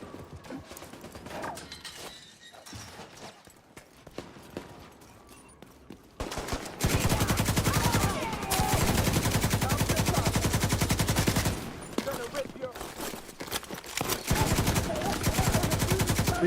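Sustained machine gun fire from The Division 2 video game, loud continuous bursts running from about six seconds onward with a brief break mid-way, after a quieter stretch of ambient game sound.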